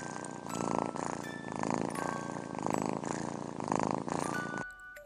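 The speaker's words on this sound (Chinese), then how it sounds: "一只小猫呼噜噜。" Kittens purring up close: a soft, steady rhythmic purr in repeated inhale-exhale pulses, about five cycles, ending abruptly.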